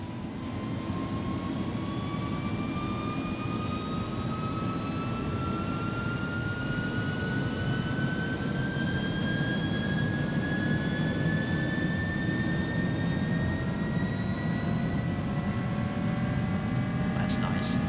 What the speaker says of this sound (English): push toga, set takeoff thrust. Engines a bit slow to spool up